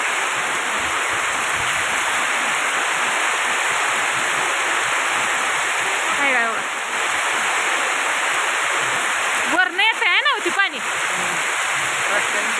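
Steady, dense rush of rainwater pouring from trees on a hillside fills the scene continuously, with a few brief voices cutting in near the middle and end.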